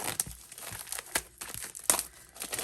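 Crinkling plastic rustles near the microphone, broken by a few sharp snips and crackles as a plastic bag is cut open with scissors.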